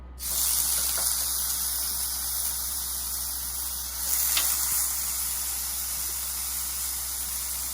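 Steady loud sizzling hiss of short ribs frying on a hot griddle, continuous throughout with a faint clink partway through.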